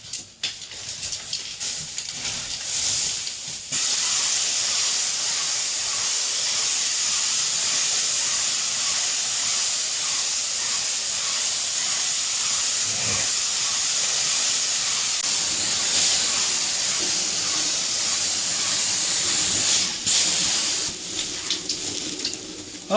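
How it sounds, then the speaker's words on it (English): A sprayer hisses steadily as it mists water onto an acoustic popcorn ceiling before stripping, a loud, continuous airy spray filling the room with only brief pauses near the start and end. "I'm going to spray this whole room."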